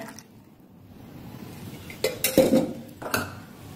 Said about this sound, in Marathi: तेल घालून परत एकदा चांगलं मिक्स करून घेऊया